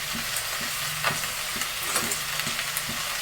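Green peas and mixed vegetables fry in an oiled pan for vegetable kurma, giving a steady loud sizzle with scraping stirs and soft knocks of the spoon throughout.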